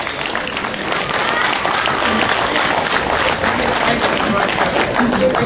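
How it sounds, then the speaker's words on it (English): A crowd at the Prairie Days parade applauds, dense continuous clapping filling the whole stretch at a steady level, with an announcer's voice over it. "Everybody give Jack a big round of applause."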